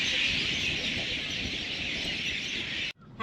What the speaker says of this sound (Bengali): ও পাখি কি ডাকছে তো